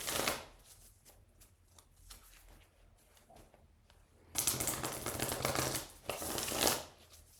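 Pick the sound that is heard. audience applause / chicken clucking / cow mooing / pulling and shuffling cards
pulling and shuffling cards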